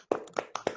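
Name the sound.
clapping over video call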